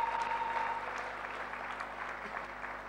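A church congregation applauding the Lord, steady faint clapping from a crowd sustained throughout, somewhat distant with a low hum underneath.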